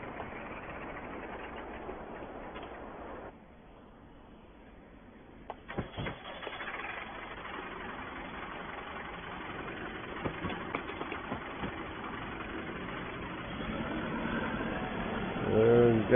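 Farm tractor engine running at a spring wheat field with a power harrow, a faint low steady hum that drops briefly before resuming with occasional clanks and a rising surge at the end.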